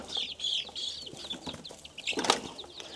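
Backyard chickens on an urban farm in Arizona cluck and chirp in short, high bursts close by, with a flutter of wings and some rustling toward the end.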